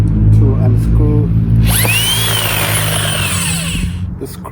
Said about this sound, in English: So I'm just using an electric drill to unscrew